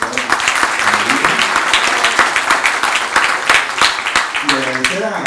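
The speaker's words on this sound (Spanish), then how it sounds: "También pido un voto de aplauso" Audience applause at a university lecture event in Peru, dense clapping sustained for several seconds with a voice speaking over it toward the end.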